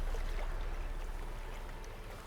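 A flowing stream in The Witcher 3, a steady soft wash of water with no voices, fairly faint and even across the short stretch.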